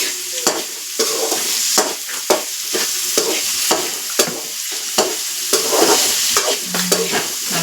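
Onions sautéing for a fish curry, with steady stirring scrapes and a constant oily sizzle, the spoon knocking against the pan in irregular clanks throughout.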